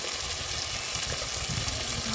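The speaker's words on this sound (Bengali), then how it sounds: "এই যে পেঁয়াজগুলো ভাজা হয়ে গেছে, এবার এর মধ্যে দিয়ে দেবো বেটে রাখা মশলা, টমেটো, আদা, রসুন, লঙ্কা" Onions fry in a pan with spice paste, tomato, ginger, garlic and chili added, giving a loud, steady, close sizzle that continues unbroken throughout, with faint stirring and no speech.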